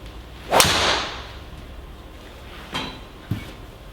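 A King Cobra F8 golf driver strikes a ball with one sharp, loud crack that rings briefly, followed by a couple of fainter clicks in a quiet setting.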